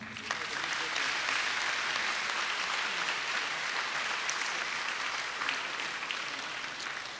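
Sustained applause from a church congregation at a Mass honoring the deacons, a dense, steady wash of many hands clapping that holds at an even loudness throughout, with no voices rising above it.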